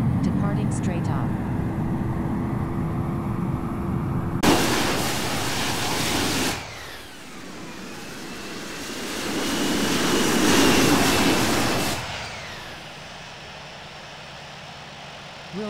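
Broad, steady roar of a jet on its takeoff roll in the Infinite Flight simulator at Luis Munoz runway 08, swelling and fading over several seconds under radio chatter.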